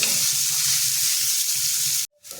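Chopped onion frying in a pan for egg bhurji gives a steady, bright sizzle with soft stirring underneath for about two seconds, then cuts off abruptly before faint sound returns.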